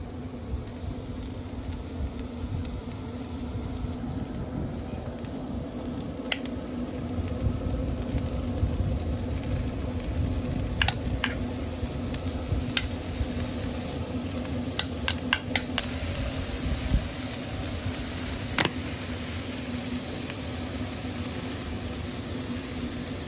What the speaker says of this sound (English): we got the ribeye down, we got the vegetable down, we got the butter and the garlic going